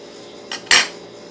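A utensil clinks twice against a bowl while gel food colouring is stirred into cupcake icing, two quick close metallic taps over quiet background.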